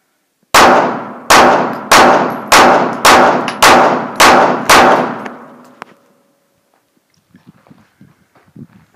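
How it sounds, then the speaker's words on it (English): Seven rapid pistol shots from a Smith & Wesson Shield, each a sharp loud crack with a ringing clang from steel targets, evenly spaced about half a second apart, then quiet with faint distant sounds. "Nice shooting, Tex."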